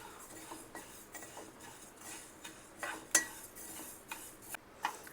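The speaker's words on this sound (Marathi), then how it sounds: "तीळ भाजून घेऊया" Sesame seeds roast in a pan as they are stirred, giving a quiet run of small ticks, scrapes and light clinks of a spoon against the metal.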